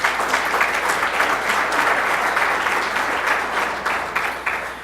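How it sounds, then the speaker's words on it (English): A crowd at a State of the Schools event gives the sponsors a loud, sustained round of clapping that stays thick throughout and tapers slightly near the end. "a big round of applause to the sponsors you see in your program and up here on the screen"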